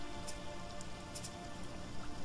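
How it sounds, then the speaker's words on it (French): Soft, steady rain patters throughout in the survival video game Sheltered, a faint continuous hiss with no voices. "On profite qu'il y ait la pluie."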